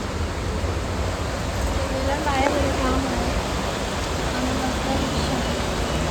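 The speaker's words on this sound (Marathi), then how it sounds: "पाऊस बघा" Heavy rain falls outside a temple as a dense, even roar that fills the whole scene. A person speaks briefly beneath the downpour.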